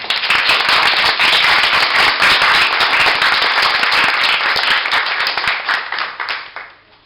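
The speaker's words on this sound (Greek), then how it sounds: "θέλω να τους χειροκροτήσουμε" Audience applause for young musicians at a Greek awards celebration of poetry and creative work, a dense, loud sustained clapping that holds steady for several seconds and then fades out at the end.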